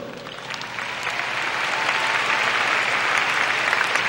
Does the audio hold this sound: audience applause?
yes